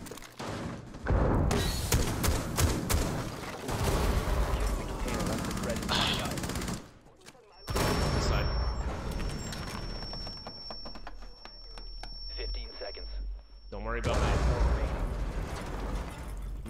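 Gunfire and a grenade blast in the video game Rainbow Six Siege, rapid loud bursts of shots and thuds, a short lull, then more clatter under players' voices.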